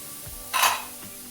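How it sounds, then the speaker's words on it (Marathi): Urad dal tipped into a hot pan with fried chillies and stirred, giving a brief burst of sizzling and scraping that swells for a moment and then fades back to a low background. "मिरची परतल्यानंतर ही उडीद डाळ टाकूया यामध्ये"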